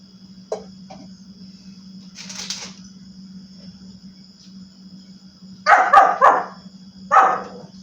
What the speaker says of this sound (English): it makes the dogs bark